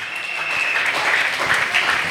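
Congregation applauding at a church worship service, steady dense clapping throughout at close range, with no voices over it.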